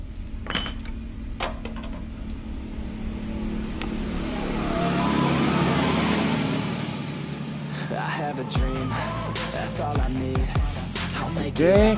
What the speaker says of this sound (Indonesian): Kita coba cek hidupkan motornya, karena apinya sekarang udah ada ya.